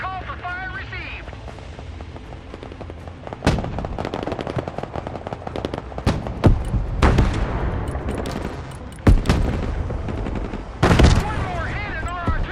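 Artillery fire in the Broken Arrow war game: sharp heavy blasts and bursts of gunfire crack out at irregular intervals, loud and booming, under radio-style voices talking.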